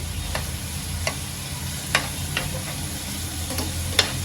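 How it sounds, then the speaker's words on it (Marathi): Drumstick pods fry in oil in a pan under a steady sizzle, with occasional sharp scrapes and taps of a spoon stirring them, close and even, no talking. "सर्वांना दोन ते तीन मिनिटापर्यंत चांगलं तेलामध्ये परतून घेते"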